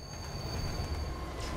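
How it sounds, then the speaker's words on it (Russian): Train rumbling along in the LEGO Batman 2: DC Super Heroes video game, a steady low rolling roar with a thin high metallic whine held over it, no voices. "Так, поезд."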